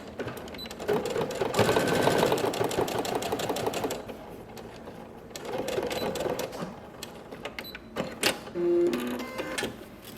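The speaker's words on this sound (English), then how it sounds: "I can kind of feel where the facing ends, and I'll stitch all the way there" A sewing machine runs in bursts, stitching a dress facing along the shoulder: a steady mechanical whir for a couple of seconds, a pause, a second run, then short taps and handling noises near the end.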